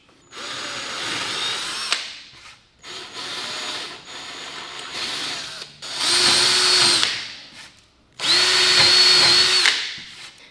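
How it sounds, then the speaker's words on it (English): A power drill with a 1/4 inch bit bores holes for threaded inserts, running in four separate whirring bursts, the last two louder and steadier, with short pauses between. "To drill out the holes for the threaded inserts, we're going to use a 1/4 inch drill bit."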